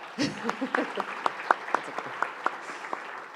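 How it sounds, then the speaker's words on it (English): A small audience at a cancer-support presentation claps briefly: a short burst of mixed hands at the start, then sparse, evenly spaced single claps that thin out and fade. "You can clap."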